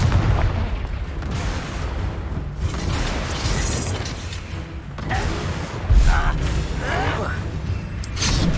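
A Confringo blasting spell bursts in the Hogwarts Legacy video game, a dense, loud blast with booming impacts over continuous rumbling battle noise, with a sharper burst near the end.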